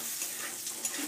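A spatula stirs shrimp frying in a wok for an unripe jackfruit and shrimp dish, giving a brief, soft sizzle with light scraping strokes and no talk.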